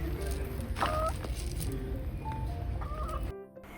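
Hens let out of their coop cluck and call softly in short bursts over a steady background hum, moderately close.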